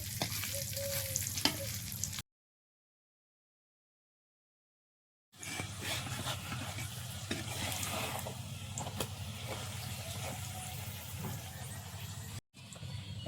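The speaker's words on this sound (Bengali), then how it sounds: "এরপরে যে পরোটাটাও ভাজা হয়ে যাবে এই তেলে, 2-3টে পরোটা আরামে ভাজা হয়ে যাবে।" Thick sugar parathas fry in a generous amount of oil with a steady close sizzle, broken by a few seconds of silence before the crackle resumes at the same even level.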